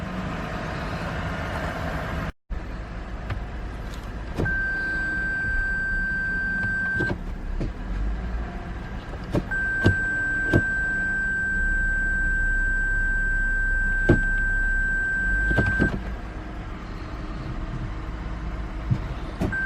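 A 2015 Lexus IS250 F Sport raised on a lift, its engine running steadily through the gears as a low continuous drone, with sustained electronic tones sounding over it for several seconds at a time.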